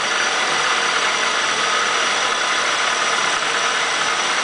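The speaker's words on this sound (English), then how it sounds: "Second operation is cutting the stem. First a rough cut and then a finished cut." A Bridgeport milling machine cuts an eighth-inch valve stem, a loud, steady whirring and grinding drone that holds constant, close and uninterrupted.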